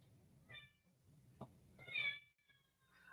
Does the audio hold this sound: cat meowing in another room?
yes